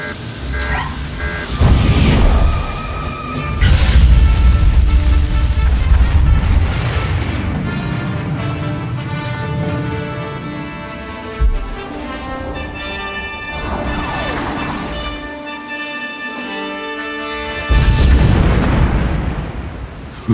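A heavy weapon launches at a target and detonates in Star Wars: The Old Republic, booming explosions opening the sequence and a second big blast near the end, with rumbling debris and game music between, no speech.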